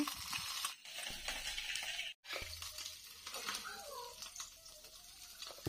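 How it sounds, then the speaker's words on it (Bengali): Small fish fry in a pan for a choto macher chorchori, a close crackling sizzle with stirring and scraping sounds, broken by two brief pauses, then continuing more quietly with a faint tone underneath. "মাছগুলো কিন্তু দেখো ভাজা হয়ে গেছে।"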